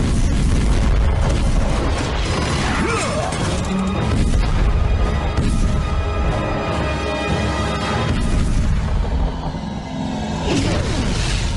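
A loud explosion and crash follow firing in the animated film Kung Fu Panda 4, with booming impacts, whooshes and rumbling debris filling the whole stretch, close and heavy.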